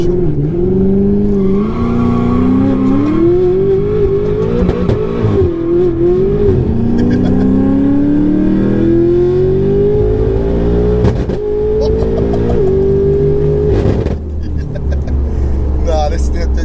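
A 1356 bhp BMW M5 accelerates hard on the street, its engine climbing loudly and steadily through the revs with brief dips at the gear changes and a sustained, near, powerful roar.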